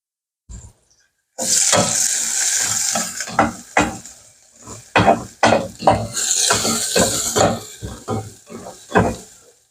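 Tomatoes, onion and the white part of spring onion hit a hot pan with garlic and ginger for ginisang tahong, giving a close, steady sizzle broken by repeated scraping and clinking of a utensil against the pan.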